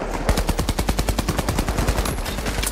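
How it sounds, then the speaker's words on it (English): Rapid bursts of gunfire in The Finals hit an enemy's shield, a quick rhythmic string of sharp shots with no talk over them. "I'm gonna keep shooting his shield."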